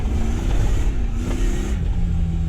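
A supercharged 1UZ-FE V8 in a Land Cruiser Prado holds a steady, strained drone with rising and dipping pitch as it revs on dirt bush tracks, loud and close, with no voices.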